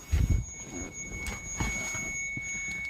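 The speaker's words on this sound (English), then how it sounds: "the car is beeping at me because, well, I have the key in my pocket" A steady, high electronic warning tone from a 2017 Subaru Outback diesel, sounding because the key is inside the car, rings on without pause, with rustling and a few soft thumps close by.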